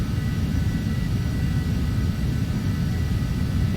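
Phenom 300 business jet engine in the Prepar3d v4.5 flight simulator, a steady low, dense cabin drone and rumble that holds evenly throughout with no talking.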